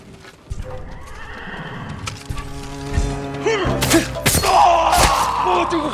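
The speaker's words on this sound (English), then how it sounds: "Let's get to the horses." Horses in the video game Ghost of Tsushima neigh and whinny loudly and close, with clip-clopping hooves and heavy thuds under a swelling game score.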